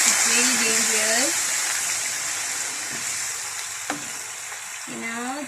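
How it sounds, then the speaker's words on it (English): Ginger garlic paste spitting in hot oil on a stove while cooking crab masala, a loud continuous sizzle with a few stirring clinks, and a voice speaks briefly over it. "Now we are going to add our ginger garlic paste."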